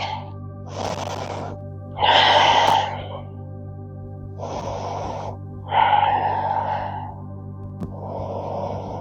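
Deep breathing during a yoga exercise: slow, close, audible inhales and exhales alternating in a steady rhythm over a constant low hum, with two louder, longer breaths standing out.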